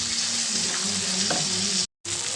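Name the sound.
onion and capsicum being stirred and fried in pan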